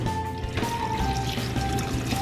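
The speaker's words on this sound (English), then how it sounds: "we're gonna cover this with water, just enough so the potatoes are covered." Water poured into a pot over potatoes while cooking dinner, a steady close splashing and gurgling stream that fills the pot with no talking.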